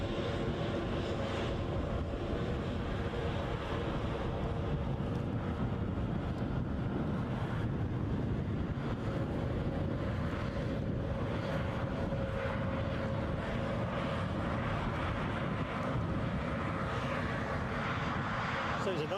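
A Embraer 190 jet taxiing at Edinburgh airport, a steady broad engine roar and whine that holds throughout under gusting wind noise on the microphone, with a voice talking over it.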